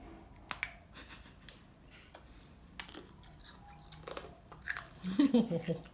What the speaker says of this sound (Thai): ตอนนี้จะลองกินขนมน้ำตาลที่คุณแม่ทำนะครับ